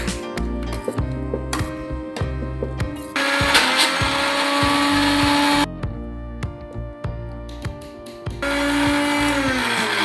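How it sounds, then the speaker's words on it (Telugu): A kitchen mixer grinder churns chopped dates to a smooth paste, its loud motor whine running in several bursts with short pauses between, pitch shifting slightly as the load changes. "ఖర్జూరాన్ని మంచిగా ఇట్లా మెత్త మిక్సీ పట్టుకోవాలి."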